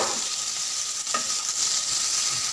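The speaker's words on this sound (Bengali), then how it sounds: "জিরে দিয়ে দিলাম, পেঁয়াজ দিয়ে দেবো" Cumin seeds and onion sizzling in hot oil in a pan, a steady bright hiss with a faint stir or clink near the middle, close and alone without speech.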